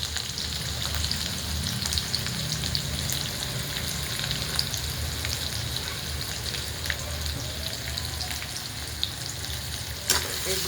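Curry leaves and chopped onion hit hot oil with mustard seeds, producing a loud, continuous crackling sizzle with scattered small pops, close by and with no voices.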